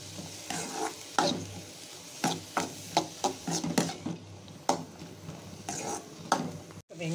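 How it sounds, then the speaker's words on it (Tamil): Onions sauté in oil in a pan with a low steady sizzle, while a spoon stirs and scrapes against the metal in repeated irregular strokes, close by, with no talking. "வெங்காயம் நல்லா வதங்கிடுச்சுங்க"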